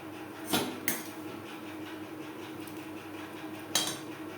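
Dalia khichuri with mung dal and fried vegetables is stirred in a pot, giving a few faint metallic clinks of a spoon against the vessel amid low, quiet background noise.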